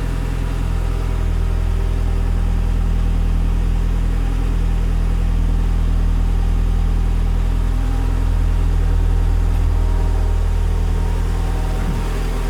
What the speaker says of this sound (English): It's not particularly a quiet engine either.